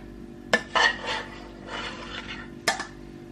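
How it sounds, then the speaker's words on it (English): Spinach and onion mix spooned into a filo pastry pie dish, with sharp clinks of a spoon against the dish and soft scraping and spreading sounds between them, close up. "now I shall be adding in the remaining spinach onion mix"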